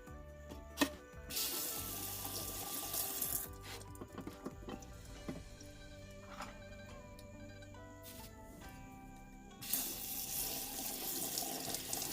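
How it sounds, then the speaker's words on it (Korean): Pollock fish rinsed under a running kitchen tap, a steady soft rush of water with rubbing and handling noises, fairly quiet and close, with no talking. "물로 잘 세척해 줍니다"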